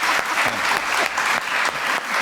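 A television studio audience breaks into loud, steady applause, a thick wash of many hands clapping close by, swelling in slight waves with no voices over it.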